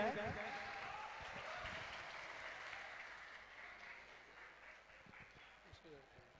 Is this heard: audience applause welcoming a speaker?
yes